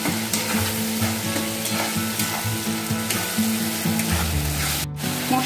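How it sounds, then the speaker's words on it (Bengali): Masala of turmeric and Kashmiri red chili powder frying in a pan for a Bengali fish curry, with a steady close sizzle and repeated scraping stirs throughout. No one speaks. "এই মশলাটাকে খুব ভালো করে ভাজবো।"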